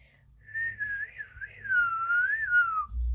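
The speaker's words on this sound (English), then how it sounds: "Can you whistle?" A single person whistles a clear, wavering tune for about three seconds, close and alone, with faint low rumble beneath.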